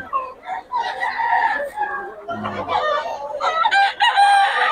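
Several roosters crow one after another, loud and near, with overlapping calls and some clucking in between.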